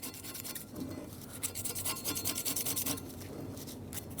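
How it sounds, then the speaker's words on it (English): Old seal residue being scraped off a 2003-2009 Dodge Ram 2500 rear axle shaft, a close series of rough, rasping strokes in quick rhythm, moderately quiet and heard alone. "Scrape that off and scrape off the rest of it."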